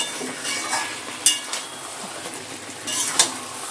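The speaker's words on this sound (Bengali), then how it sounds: "মাংসটা বেশ অনেকটা সময় নিয়ে ভালো করে কষিয়ে নিচ্ছি" Mutton is stirred and sautéed in a pot, with a spoon scraping and clinking against the metal in irregular strokes over a low sizzle, close and fairly loud with no talking.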